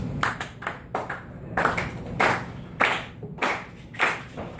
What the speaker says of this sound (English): can everybody clap like this?